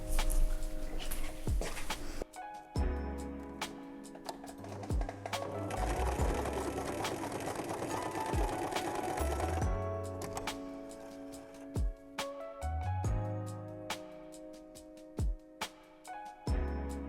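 Sewing machine stitching fabric during home clothing repairs, a close steady mechanical whir lasting about four seconds, followed by short starts and stops of the motor and scattered handling clicks.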